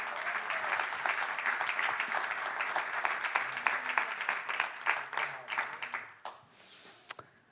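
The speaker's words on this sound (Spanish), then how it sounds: "Denle un aplauso al Señor, aleluya." A church congregation applauding the Lord during a Spanish-language sermon, dense continuous clapping from many hands, moderately loud, thinning out and fading near the end with a few last claps.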